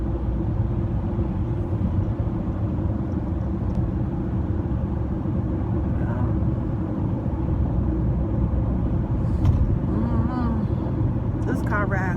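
Car driving down a bumpy road, a loud continuous rumble of engine and road noise heard from inside, with brief talk near the end.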